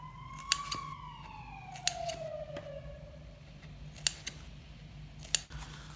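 Scissors snip through ribbons for a handmade foam gift, with several sharp, close cuts spaced a second or more apart over quiet background, alongside a faint falling tone from somewhere distant.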